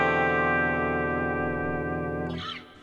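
Electric guitar chord played in inverted tuning, a sustained distorted chord with effects and echo ringing steadily for over two seconds before a short scrape and fade.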